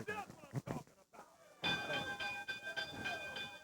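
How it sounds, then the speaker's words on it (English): A wrestling ring bell at a Memphis wrestling event is struck repeatedly, ringing with a sustained metallic clang and lingering overtones after a stretch of talk. "Why are you hitting the bell?"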